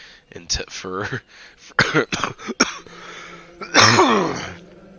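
A person coughs and clears their throat in several rough bursts, loud and close, with a longer harsh fit near the end, over a quiet background.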